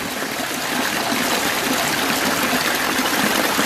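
Water flows steadily into furrows past bags of granite sludge, a continuous, close rushing and trickling with no pauses.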